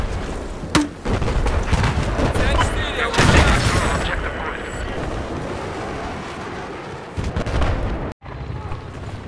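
Gunfire from a shooter video game sounds as sharp loud bangs and booming blasts, with a voice talking over the action.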